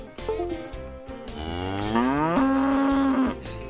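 Cattle mooing in a podcast intro: a couple of long, rising bovine moos, loud and close, the second one stretched and sustained before cutting off, with no talk.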